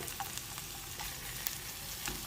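Sliced peppers and onions cook in a pan for a southwest tofu scramble, giving a soft, steady, faint sizzle throughout with a few light stirring ticks.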